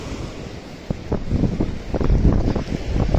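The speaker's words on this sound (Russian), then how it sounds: "У нас вот так везде ручьи идут." Streams of water run everywhere outdoors, making a close, loud, continuous rushing noise that swells slightly toward the end, roughened by wind buffeting the microphone.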